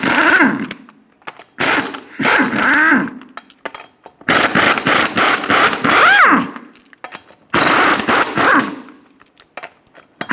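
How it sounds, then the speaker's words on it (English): Lug nuts come off a 2000-2006 Toyota Tundra front wheel with a 21mm socket in a series of loud, close bursts of harsh, whining mechanical rattling, separated by short pauses. "Using a 21mm socket, remove the 6 lug nuts."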